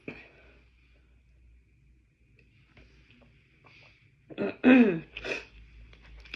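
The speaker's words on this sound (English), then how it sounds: "It's like I have to clear my throat." Someone clears their throat loudly once or twice near the close, after a quiet stretch with soft background noise.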